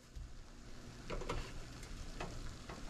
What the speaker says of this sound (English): So as you can tell, it's boiling.